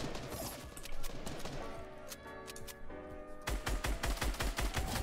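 Gunfire during a multiplayer video game shootout: rapid bursts of sharp shots crack in quick succession, dense and fairly loud, ending in a heavier volley with no talking over it.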